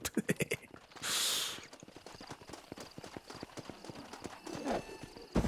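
Rhythmic hoof clip-clops with a short burst of a horse neighing and snorting in Red Dead Redemption, game-like and fairly close.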